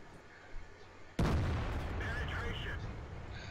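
A tank cannon fires in World of Tanks: a single loud, sudden boom about a second in, followed by a long rumbling tail and game effects, with no one talking.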